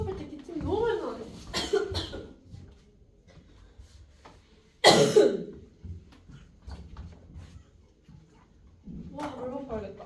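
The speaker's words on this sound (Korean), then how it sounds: "어제부터 수업할 때 기침이 너무 많이 나요" A sharp, loud burst of coughing midway, with a teacher talking in Korean during a math lesson before and after it.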